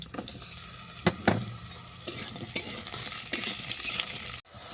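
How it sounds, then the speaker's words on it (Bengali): Water lily stems stirred and frying in a pan of oil with sweet potato, soft sizzling under scraping spoon strokes and a few sharp knocks. "রাঙালু ভালো করে ভাজা হয়ে গেছে। এরপর দিয়ে দিলাম শাপলা।"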